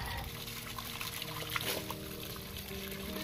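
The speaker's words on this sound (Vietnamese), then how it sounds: "Đây là mình xả nước lần 2 nha." Running water rinses star gooseberries being prepared for jam, a soft, steady trickle and pour with faint splashes, fairly quiet and continuous.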